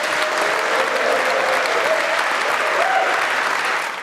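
Studio audience on a rugby talk show breaks into steady, dense applause that holds at an even level for several seconds before tapering slightly at the end, with no talking over it.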